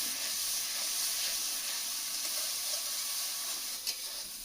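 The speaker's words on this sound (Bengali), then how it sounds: "মশলাটা ভাজা হয়ে গেছে" Spice paste for a village-style Bengali fish curry fries in hot oil, giving a bright, continuous sizzle and hiss with a faint stir or clink near the end.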